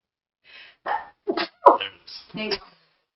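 A couple of short, sharp sneezes, close by, with brief vocal sounds and breaths around them.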